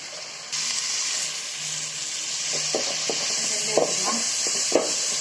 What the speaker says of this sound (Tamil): தக்காளி லைட்டாக வதங்கட்டும்.